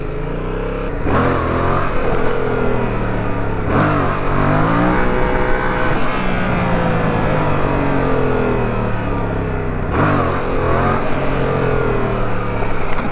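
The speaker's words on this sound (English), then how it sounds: "no matter how much I pull my clutch in, the idle stays up" A Yamaha MT-07 motorcycle engine idles high at around 3000 rpm with a fault that keeps the revs up even with the clutch pulled in. It gives a loud, steady, close drone with a couple of brief rev dips and swells.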